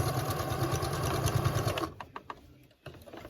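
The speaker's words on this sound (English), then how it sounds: "So now we're sewing." Sewing machine stitching a sleeve seam into a bodice, a fast, steady mechanical whir running close for nearly two seconds before stopping, followed by a few faint clicks and handling sounds.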